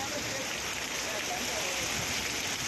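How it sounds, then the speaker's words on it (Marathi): Heavy monsoon downpour in Thane, a dense steady hiss of rain filling the whole clip at an even level, with faint voices underneath. "ठाणे, कल्याण आणि डोंबिवली या ठिकाणी सध्या मुसळधार पाऊस सुरू आहे."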